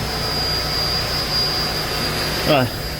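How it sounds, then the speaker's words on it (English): A pump house motor and filter run with a steady, loud mechanical hum and a thin high whine, a brief rising whir near the end. "Hopefully the motor's not too loud, but you can see filter is running"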